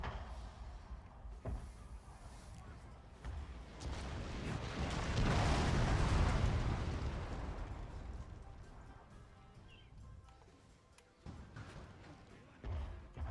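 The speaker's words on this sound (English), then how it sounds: "A spirited artillery duel if I've ever seen one." Artillery duel in the Total War: Fall of the Samurai video game: rumbling cannon booms and dense battle noise swell to a loud peak mid-clip, then fade back into a steady din.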